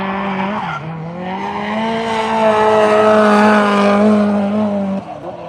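Drift car tires at G1GP drifting competition qualifying on Ebisu Circuit's Nishi course in Japan, a long, loud, sustained squeal with a droning engine, rising and holding for several seconds before easing.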